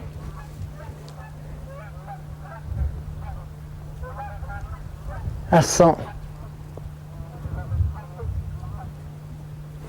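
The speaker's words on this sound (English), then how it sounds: "Alright, that's enough geese." Geese honk in a short burst of several loud calls midway, with scattered softer honks around it, over a steady low hum and brief talk.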